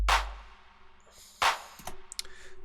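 Two sharp claps ring out in a beat, each followed by a wash of reverb tail, over a low, steady electronic backing.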